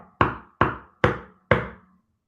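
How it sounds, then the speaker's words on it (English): Four firm knocks on a door, close and loud, in a slightly uneven rhythm with a brief ring after each blow, then silence; no voices are heard. "the knock on the door came"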